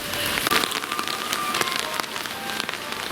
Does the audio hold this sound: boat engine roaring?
no